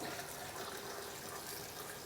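Water streams steadily into a blender jar, a continuous, even hiss of pouring liquid, fairly faint and uninterrupted with no voices.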